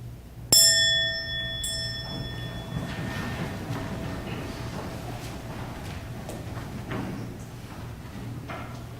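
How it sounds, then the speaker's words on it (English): A single bell struck once at a funeral service, a bright ringing strike that decays over a few seconds into a quiet room with low background murmur. "May the sound of this bell reverberate through all creation"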